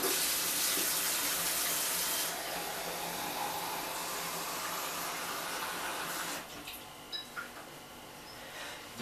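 Water pours steadily into a container while stratifying plum pits, a broad continuous splashing that runs strong at first, then thins and trickles toward the end, with no talking.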